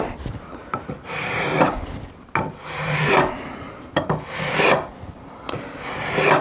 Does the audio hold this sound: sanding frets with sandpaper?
yes